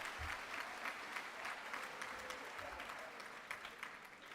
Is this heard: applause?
yes